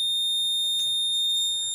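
A short, high electronic alarm tone sounds steadily from a smart safety helmet with no ignition key inserted, with faint brief clicks and a low hum beneath it.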